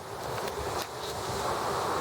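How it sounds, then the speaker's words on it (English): Steady wind buffeting the microphone outdoors beside a rusty trailer being rebuilt, a continuous broad roar with small gusty surges and no voices. "It is windy, so sorry about the noise"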